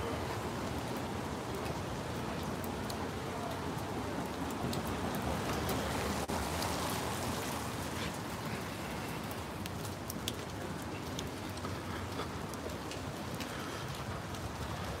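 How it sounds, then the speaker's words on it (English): Light rain falling steadily in St Petersburg, Russia, a dense even hiss of drops on surfaces that holds at a constant level throughout, close and unbroken, with no voices. "Now the strong rain turns into like a smaller rain, and such a rain can go for a long time"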